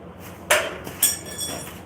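Two sharp metallic taps from a small hammer on a 1969 Chevrolet El Camino's metal ring out about half a second apart, followed by a fainter knock, with light background noise.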